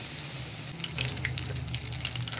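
A potato sandwich coated in gram-flour batter fries in oil over a low flame, giving a soft, even bubbling sizzle that stays faint and steady throughout.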